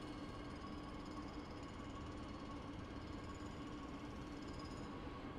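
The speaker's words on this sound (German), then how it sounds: "Guck mal, dein Zug fährt ab." A Talent 2 electric train departs in Train Sim World 2 on the Dresden Hbf to Großenhain route, a steady, unbroken mechanical hum and rumble at low level with no voices.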